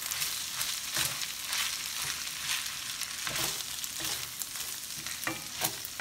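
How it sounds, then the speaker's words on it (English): Carrots and green onion for pork fried rice are stirred in a hot pan, a steady close sizzle broken by regular scraping strokes of the spatula, with no talking. "I'm gonna go ahead and add my carrots. Go ahead and add my green onion. I'm gonna stir this."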